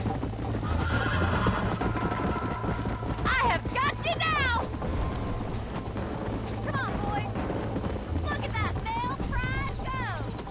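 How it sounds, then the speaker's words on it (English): A horse in the video game Red Dead Redemption 2 whinnies loudly several times over a steady, rhythmic patter of galloping hooves, with the neighs rising and falling in sharp, shrill bursts. "My horse is almost dead."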